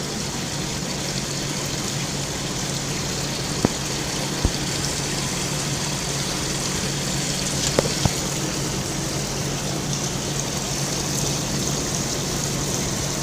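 A steady, continuous rush of a water jet flowing from an orifice on a lab apparatus hisses without pause, with a couple of faint clicks and taps partway through.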